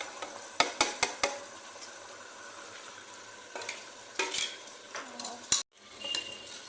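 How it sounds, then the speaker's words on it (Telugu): Spoon stirring and mixing mutton, potato and methi curry with chilli powder, salt, ginger paste and masalas in a pan, with several sharp scraping clinks and a soft sizzle throughout, close and without speech. "అన్నీ వేసాక మంచిగా మిక్స్ చేసుకోవాలి."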